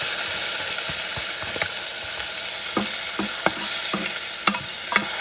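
Grated fresh farmer's-market tomato sauce stirred in a hot pan, with a continuous sizzle and several sharp spoon scrapes and taps against the pan toward the end, close and fairly loud.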